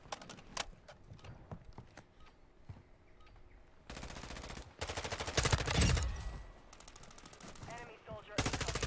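Video game gunfire: bursts of rapid automatic shots, loud and close, in several dense volleys broken by brief pauses, with scattered single shots between them and no talk heard.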